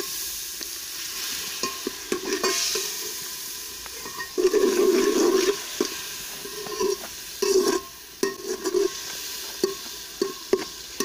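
Meat curry for chicken biryani cooks in a pot, with a spoon scraping and stirring through a steady sizzle and frying hiss, in irregular strokes that come close and loud at moments.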